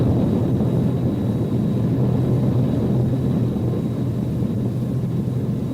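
A fixed-wing aircraft climbs out just after takeoff with the undercarriage retracted, giving a steady, loud, continuous low engine drone that holds even throughout, with no voices.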